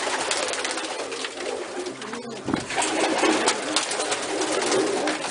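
Pigeons cooing inside a loft, low soft coos repeating over a continuous bed of rustling and ambient noise, close by.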